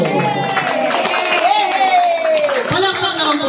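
Audience clapping at an outdoor barangay event where the local government hands out tables, chairs and tents, heard as a patter of claps under a speaker's amplified voice.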